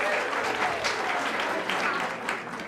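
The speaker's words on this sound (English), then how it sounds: "Give yourselves a round of applause." Applause from a room full of businesswomen at a chamber of commerce business expo, dense steady clapping close by for a few seconds, slowly easing off toward the end.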